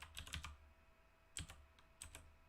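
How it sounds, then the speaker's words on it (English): Short bursts of keystrokes on a computer keyboard, a few quick clicks near the start, another cluster around the middle and a last pair at the end, close and fairly quiet with no talking. "I keep typing."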